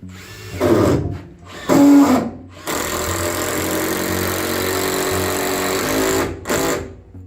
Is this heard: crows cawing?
no